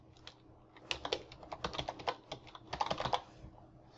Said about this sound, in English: type in the title